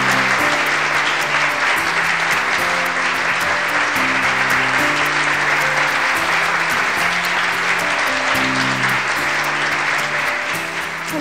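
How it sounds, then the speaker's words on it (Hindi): A crowd at a stage program applauds loudly to welcome a female guest singer: dense, continuous clapping filling the whole stretch over sustained background music, easing slightly at the very end. "तो दोस्तों जोरदार तालियों से स्वागत कीजिए मिसेज इंद्रजोत कौर जी का।"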